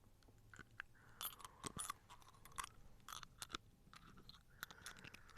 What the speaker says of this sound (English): The next ASMR sound for your pleasure is chewing on brass